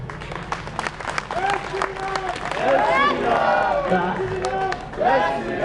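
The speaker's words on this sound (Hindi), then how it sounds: "तालियां बजाने में कंजूसी मत करना," Audience clapping at a speech event in India: a mix of claps and crowd noise that swells in the second half, with voices calling out and speaking over it.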